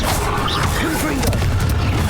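A Confringo fire blast spell in Hogwarts Legacy bursts out as a short, booming crash amid busy game sound, with a voice speaking nearby.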